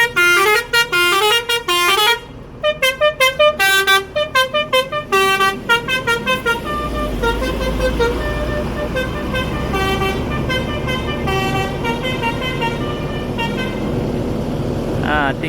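A bus departing for Jakarta sounds a musical multi-tone horn in rapid repeated bursts, loud and close, then the engine rumbles as it pulls away while the horn melody continues over it.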